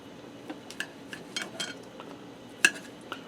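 Cutlery clinking against dishes while pork chops cooked in a pressure cooker with ranch seasoning are plated with seasoned potatoes, a few light scattered clinks and one sharper tap close by in a quiet kitchen.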